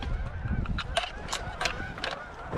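Geese honking over a hunting field, a flock calling in repeated nasal honks that sound moderately distant over a steady low rumble of background noise.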